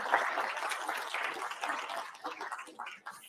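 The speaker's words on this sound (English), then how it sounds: "Let's give a round of applause to George Brown College." An audience at a developer conference applauds, a fairly quiet, dense clapping that swells briefly then thins and fades toward the end.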